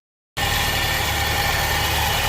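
A 1.6 TU 90-horsepower engine in a Peugeot 306 with 79,000 km starts idling abruptly after a moment of silence, then holds a steady, close, even drone with no voices.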